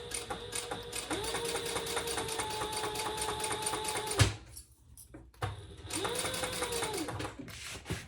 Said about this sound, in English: I'm sewing with my left foot because of my knee.